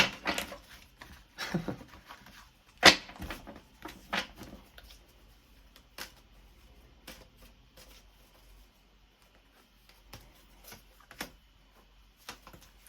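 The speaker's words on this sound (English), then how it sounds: "I'm gonna have to shuffle again" A deck of tarot cards is shuffled by hand in a quiet room, with bursts of crisp riffling and soft taps, then quieter pauses and scattered clicks.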